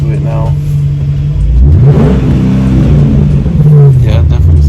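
A Mercedes C55 AMG with a modified exhaust revs hard, its deep engine rumble rising and falling in pitch over a steady idle, loud and close, with a voice talking underneath.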